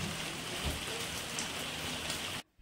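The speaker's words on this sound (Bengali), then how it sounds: "বাইরে বৃষ্টিও শুরু হয়ে গেছে" Steady rain falls outdoors, a dense even hiss running unbroken for over two seconds before cutting off abruptly; no voices.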